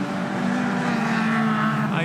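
A loud, steady Toyota AE86 engine roar at a circuit event, a sustained low drone running continuously without pauses.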